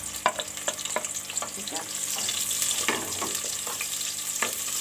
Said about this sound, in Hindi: अब हम इसमें डालने लगे हैं प्याज